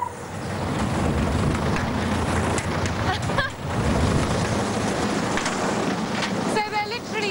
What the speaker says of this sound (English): These machines clean the littered bags, bottles and food packaging with blasts of air.